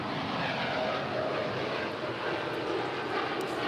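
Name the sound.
airplane taking off at LAX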